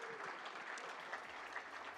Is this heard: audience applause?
yes